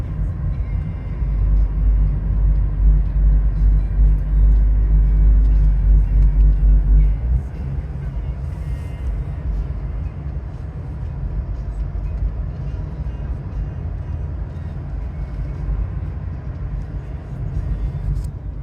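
Road traffic on Kauai, Hawaii, on a drive into town: a steady low rumble of passing vehicles, heavy and loud for the first seven seconds, then a lighter continuous drone of traffic and road noise to the end.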